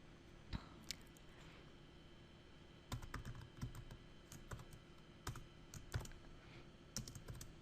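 Java code is typed on a computer keyboard in quiet, irregular bursts of soft clicking key presses. Short pauses separate the runs of keystrokes, and a few louder taps stand out close by.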